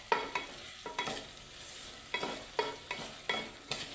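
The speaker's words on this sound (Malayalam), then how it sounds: "എന്നിട്ട് ഇങ്ങനെ മിക്സ് ചെയ്തെടുക്കാം." A spoon scrapes and stirs fish curry masala being sautéed in a pan, giving a rhythmic series of close scraping strokes over a faint sizzle, with no voice.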